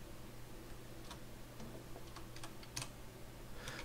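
Soft, scattered keystrokes on a computer keyboard come in small irregular bursts over a faint steady hum. Someone is typing commands while building a minimap in a game map editor, with no talking.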